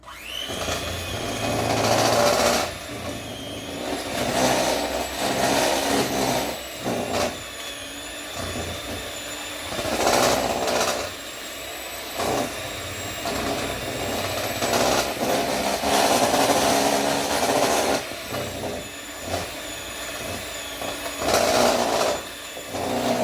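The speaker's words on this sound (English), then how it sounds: "I'm just going to use my mixer to get the rest of it combined." Electric hand mixer whirring through chocolate chip cookie dough in a home kitchen, a loud continuous motor drone that swells and dips as the beaters work the batter, with no talking.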